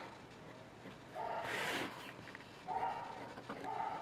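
A pet dog barks faintly in the background of a quiet room, with a few short, distant barks spread across the moment.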